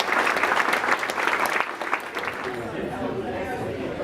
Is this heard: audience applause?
yes